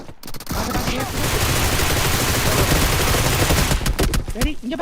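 Dense, continuous bursts of rapid gunfire from a shooting video game pound away for several seconds, loud and close, with a brief lull and more scattered shots near the end.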